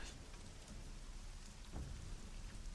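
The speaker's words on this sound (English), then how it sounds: "Listen to the rain." Steady rain falls throughout, a dense, even hiss with a faint low rumble underneath, constant and fairly quiet with no voices.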